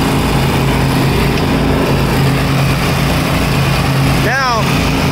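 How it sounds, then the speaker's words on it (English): An Echo mower engine runs steadily at close range during yard work, a loud, constant buzzing drone that fills the whole stretch, with a brief squeal or whistle near the end. "It's an amazing mower."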